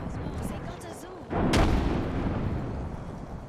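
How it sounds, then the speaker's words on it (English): A grenade goes off in the battle royale shooter Apex Legends, a single close, heavy blast followed by a rumbling tail, with someone talking before it. "Tossing a grenade"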